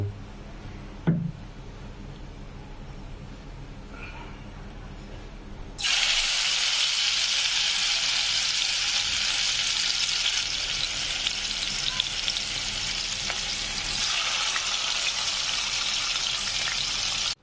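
Hilsa fish pieces go into a hot pan with a sudden loud burst of sizzling, which then settles into a steady, dense frying hiss close by. Before that, a quieter stretch holds a single clunk.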